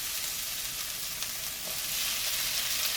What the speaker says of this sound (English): saute until it's fragrant and translucent